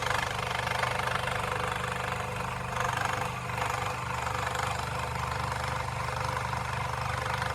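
A scroll saw cuts a wooden wine box with a rapid, steady buzzing chatter from the reciprocating blade, close and continuous with only a brief dip partway through.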